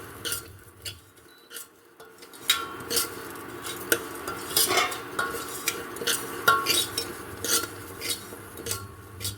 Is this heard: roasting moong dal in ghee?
yes